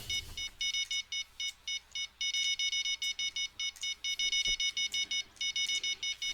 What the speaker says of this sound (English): Rod 1 is beeping.